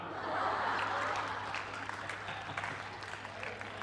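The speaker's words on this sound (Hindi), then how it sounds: "ये तालियां बजाने वाली बात नहीं थी" An audience at a Hindi comedy poetry recital applauds, a soft, distant wash of clapping that swells early and gradually thins out over a few seconds, with faint chuckles mixed in.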